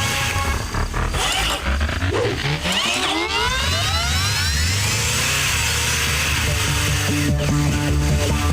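A cartoon car engine roars and speeds up, loud and busy, with rising whooshing tones and a pulsing, revving drone layered over animated sound effects and music.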